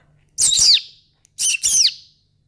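Two loud, close bird calls with bright, sweeping whistled notes, like a parrot calling, separated by a brief pause against a quiet background.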